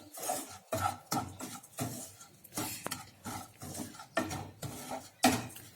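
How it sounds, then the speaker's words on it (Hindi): Spoon scraping and stirring spiced samosa stuffing with black salt, dry mango powder and red chilli powder in a metal pan, a series of close rhythmic scrapes and clinks with no talking. "एक बार मिक्स करेंगे।"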